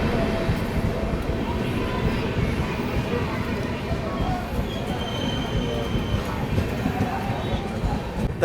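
Udyan Express pulling into platform 2 at Akkalkot Road station behind a WP7 locomotive, a steady rumble of wheels and rolling stock with faint squealing, close and continuous.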